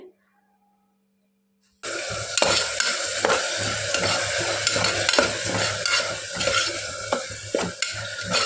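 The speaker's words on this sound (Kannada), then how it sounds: "ಒಂದು 2 ನಿಮಿಷನಾದರೂ ಈ ಥರ ಫ್ರೈ ಮಾಡಬೇಕಾಗುತ್ತೆ." Masala spices fry in a hot pan with continuous sizzling and stirring scrapes, starting abruptly after a short silence and staying loud and close, with no talking.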